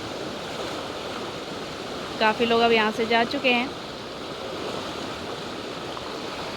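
Swollen, fast-flowing Ganges river at Rishikesh-Haridwar, high from continuous mountain rain: a steady, broad rushing roar throughout, with someone speaking briefly over it.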